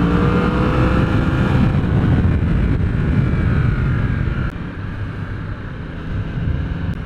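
A Yamaha R1 sport motorcycle accelerates on the road at partial throttle, its engine note climbing steadily under heavy, continuous wind rush at the helmet microphone, with no speech.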